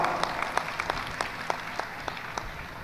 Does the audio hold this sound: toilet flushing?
no